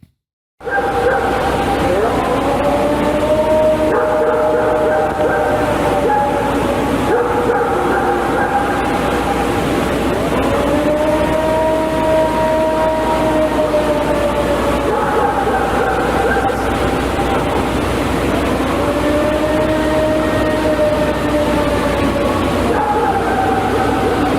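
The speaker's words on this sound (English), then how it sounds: "here's a recording of the Ohio Howl, though you can also hear a dog barking" A recording of the Ohio Howl, a purported Bigfoot vocalization, with a dog barking: long, wavering tonal howls repeat over a steady background hiss and run continuously for over twenty seconds.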